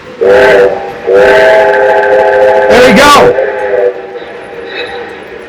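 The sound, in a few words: Lionel model train whistle and running train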